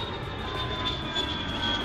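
Airplane flying overhead in a school comedy sketch, a steady loud roaring drone with a high whine running through it, continuous for the whole stretch with no talking.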